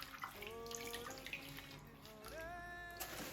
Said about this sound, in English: lay them in the water like that